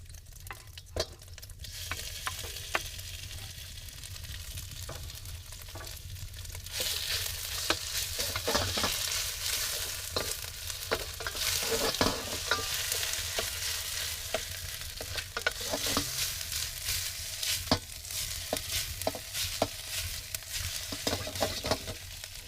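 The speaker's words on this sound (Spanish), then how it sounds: "Ya hemos frito el tocino con las truchas." Trout fry with bacon in a pan, a long continuous crackling sizzle that grows louder partway through, peppered with frequent small pops and spatters, with no voices.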